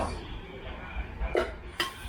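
A metal camping cooking pot clanks and clinks a few times as it is handled, close and light, over a low background hum.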